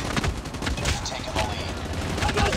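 Sustained automatic fire from the HVK-30 assault rifle in the mobile shooter Call of Duty Mobile, dense rattling shots layered over busy battle noise with a voice mixed in.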